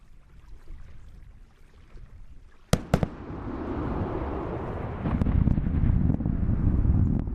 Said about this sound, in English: Listen for the sonic booms.